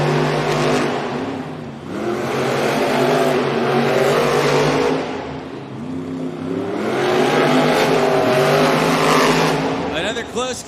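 Monster truck engines roar and rev in a loud arena competition at the Prudential Center, Newark, swelling and fading in long surges with crowd noise and an announcer's voice mixed in.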